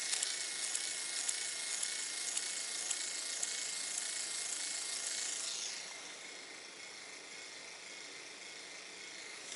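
A small electric motor spins a taped wheel for an electronic art car, giving a steady high whirring rasp that drops to a lower, quieter hum about two-thirds of the way through, with no voices.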